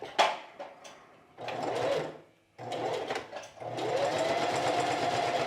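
Domestic sewing machine stitching a quilted jacket with a long 4-length stitch, running in three sustained bursts with brief pauses between, close and steady.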